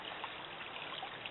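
Swamp water runs across an old gravel road with a steady, close trickling rush, unbroken and alone for the whole moment.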